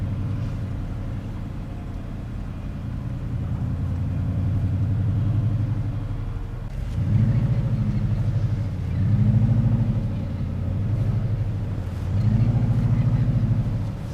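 A heavy truck's engine rumbles low and steady at about 1,000 RPM, its drone swelling and easing in slow waves as it rolls along slowly over beach sand dunes.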